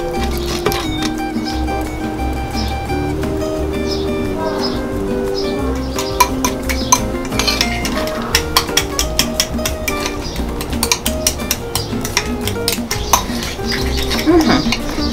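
A homemade face mask mixture being stirred in a bowl, with a run of small scraping clicks under steady background music and no voices.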